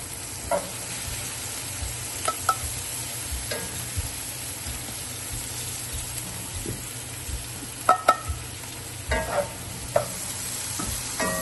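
Canned mushrooms fry in butter in a pan, a steady soft sizzle with scattered light scrapes and clicks of a utensil stirring them at close range.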